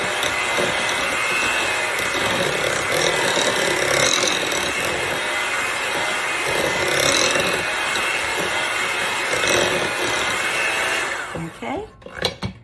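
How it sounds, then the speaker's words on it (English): An electric hand beater runs steadily on low, whirring through a cream cheese filling for a Kool-Aid pie, a continuous motor drone that cuts off near the end with a few clunks. "start the beater on low this time. And blend it in"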